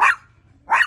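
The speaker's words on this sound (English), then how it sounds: "She barks because she's happy and excited" A pet dog barks twice with excitement, each bark short and close with a brief pause between them.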